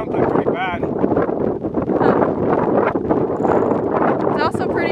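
Gusty wind at an outdoor shooting range buffets the microphone in a loud, continuous low rumble, with people talking over it.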